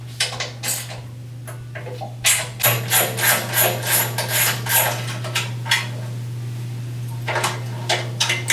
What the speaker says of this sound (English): Now I can remove the blower housing.